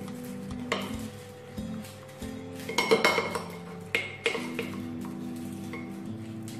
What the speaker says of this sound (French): Donc mon chocolat et mon beurre sont fondus. Alors je vais bien mélanger.